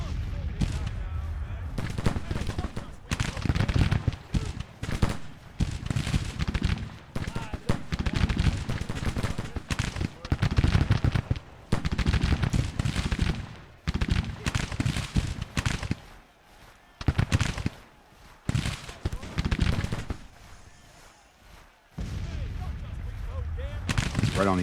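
Civil War musket volleys and artillery fire in the Grand Tactician strategy game, continuous crackling rifle fire with heavy booming cannon shots throughout, occasionally easing, under someone talking.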